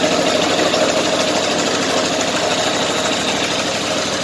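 A car engine, one whose fuel pump used to run constantly and whose engine light stays on, idles just after starting up, with a steady, close, continuous hum and no talking over it.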